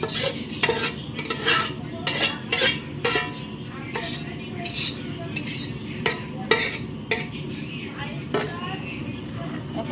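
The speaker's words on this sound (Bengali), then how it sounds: "ভালো করে নেড়ে দেবে" Fried vegetables, including beans, potato, eggplant and onion, being stirred in a large cooking pot, with repeated scraping and clattering strokes over a steady sizzle, and some background noise throughout.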